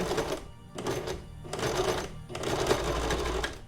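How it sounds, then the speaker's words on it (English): A sewing machine runs a top stitch along a mask's ear-elastic seam, whirring in bursts with brief pauses between runs, close and steady without talk. "we're gonna sew, and this is the top stitch"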